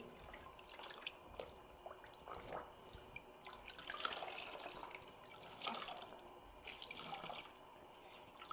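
A dyed dupatta is rinsed in clean water at home, with irregular splashing, dripping and sloshing sounds that rise and fall throughout, close by, with no talking.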